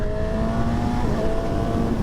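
A Honda Hornet SP motorcycle engine revs hard in third gear, a loud, steady, high-pitched drone held near the rev limiter with strong wind rush throughout.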